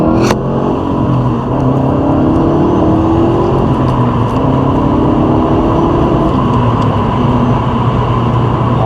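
A UK-spec Subaru Impreza WRX STI with a 2.5-litre engine and all-wheel drive, heard while driving as a loud, steady low engine drone with rising tonal hum and road roar, no voices.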